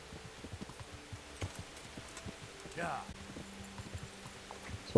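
Horse hooves clip-clop at a steady walking rhythm in the medieval game Kingdom Come: Deliverance, faint and fairly close, under a speaking voice with a brief whoosh partway through.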